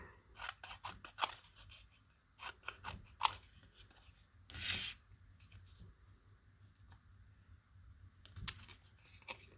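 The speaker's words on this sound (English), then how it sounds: "Let's fussy cut around here to get rid of that number." Scissors snip around paper shapes for card making, with a series of soft, quiet, irregular cuts separated by short pauses, up close in a calm room.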